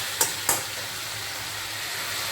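Chicken frying with spices in a pan on a low gas flame gives a continuous close sizzle and crackle, with two sharp scrape-like clicks near the start, and no talking.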